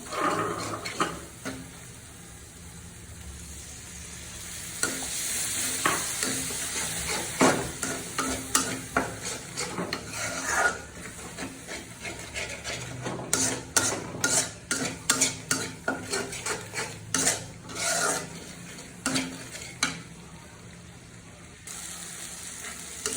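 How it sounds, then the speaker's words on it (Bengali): Masala for chicken liver and gizzard bhuna frying in a karahi with a little water, stirred in quick repeated scraping strokes of a metal spoon over a soft, continuous sizzle, heard up close. "সামান্য পরিমাণ পানি ইউজ করবো যাতে মশলাটা নিচে না লেগে যায় কড়াইয়ের সাথে"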